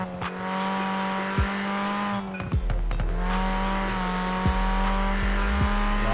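A 1.6-litre, 202-horsepower Vauxhall Corsa VXR in Forza Horizon 4 revs with a steady engine whine, punctuated by sharp gear-shift blips and a brief tire squeal mid-run.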